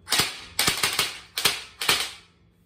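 An airsoft AR-style BB gun fires four crisp, loud shots at close range in an uneven rhythm, each crack followed by a brief rattle, with no voices.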